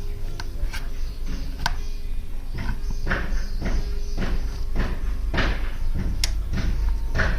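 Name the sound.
TRK 502x monoshock adjustment dial clicking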